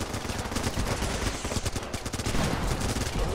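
Rifle gunfire in the Running with Rifles war game crackles as dense, continuous rapid shots layered like a distant-to-near firefight, steady and loud throughout.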